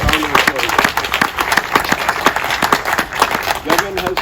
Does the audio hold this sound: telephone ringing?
no